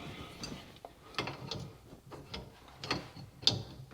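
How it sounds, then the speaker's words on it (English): Crescent wrench tightening a nut on a bathroom faucet, a series of faint metallic clicks and scrapes at an uneven pace, close but quiet, with a sharper click near the end. "we're going to take preferably a crescent wrench,"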